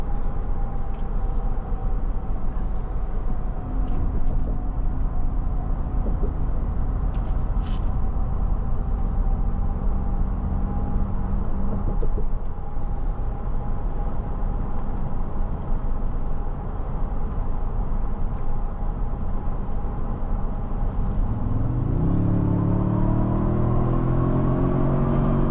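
A 2025 Toyota Sequoia TRD Pro with 583 lb-ft of torque pulls hard under acceleration, a steady engine drone and road rumble swelling into a rising rev near the end, heard from inside the cabin with no talk.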